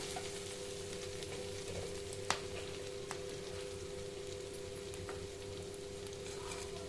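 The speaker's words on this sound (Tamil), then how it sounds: "இந்த சைடு வந்து புளி தேங்காய் போட்டு வதக்கலாம்." Tamarind and coconut sizzle steadily as they sauté in a hot pan, with a few sharp clicks from stirring.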